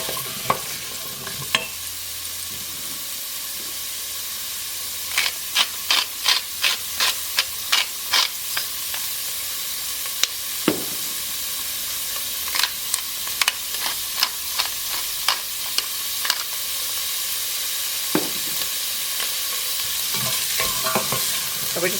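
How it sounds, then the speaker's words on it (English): Broccoli stalks sauteing in a soup pot: a steady sizzle runs throughout, broken by a quick series of sharp scraping stirs in the middle and a few scattered clinks later, with no talking. "So we're just going to saute this until they start to soften."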